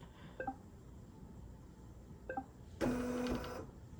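A BERNINA embroidery machine fitted with a magnetic hoop gives a couple of short beeps, then runs a brief burst of fast, close stitching that stops after under a second, with no talk.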